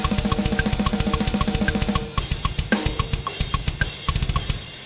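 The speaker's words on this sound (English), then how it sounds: "by combining these two kicks, I get the definition and the attack from the clicky sample" Two layered kick drum samples, one clicky and one tuned, pound out fast double-kick patterns for a deathcore-style recording, first a dense rapid run, then a slightly sparser steady pulse, loud and up front with no talking.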